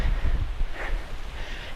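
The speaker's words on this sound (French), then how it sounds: "Et du vent, ça fait du bien." Wind gusts outdoors in a steady low rumble that buffets the microphone, filling the short stretch with a continuous broadband roar and no voices.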